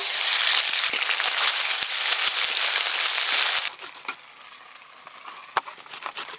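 Ginger garlic paste sizzling in hot oil with whole spices in a pan, a loud steady hiss with crackling pops that drops abruptly to a quieter sizzle with scattered sharp spits.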